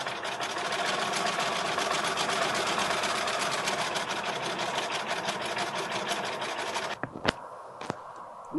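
A sewing machine runs a decorative stitch that doubles as quilting, a steady fast needle chatter held for about seven seconds before stopping, followed by a few sharp clicks and knocks.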